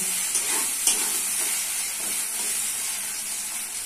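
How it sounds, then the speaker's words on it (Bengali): Ginger-garlic paste frying with chopped onion in hot oil, a loud, continuous close sizzle and hiss with a faint clink of stirring near the start. "ভালো করে আদা রসুন বাটাটা ভাজবো"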